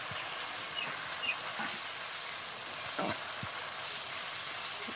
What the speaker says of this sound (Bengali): পেঁয়াজ বাটার পেস্ট দিয়ে এটাকে কষাতে থাকবো